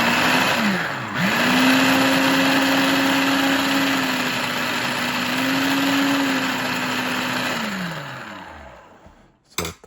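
A Black & Decker FP5050SC food processor, its motor just fixed after a blown fuse, spins up to a steady high whine, dips and rises once midway, then winds down to a stop near the end.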